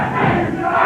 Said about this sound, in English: And a spirited crowd here at our wrestling studio.